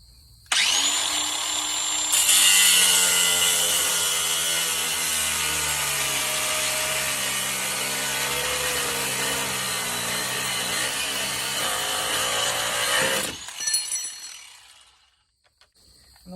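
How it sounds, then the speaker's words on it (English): An angle grinder cuts through a metal part of a Spector Duramax Flo N Go rolling fuel tank, a loud, continuous high whine held for about twelve seconds before spinning down and stopping. "now I need to cut this off. I'm going to use an angle grinder"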